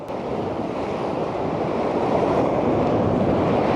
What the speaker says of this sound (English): the seas were still pretty restless and the waves were pretty tall